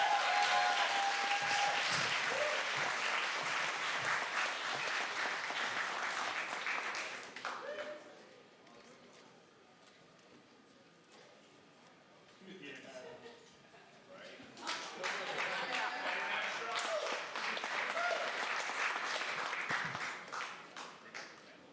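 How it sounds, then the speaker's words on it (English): Audience applause for comedian Bill Barger at a stand-up comedy and variety show, a dense, loud burst of clapping that fades into a quieter stretch with scattered sounds before clapping swells again. "Give a big round of applause."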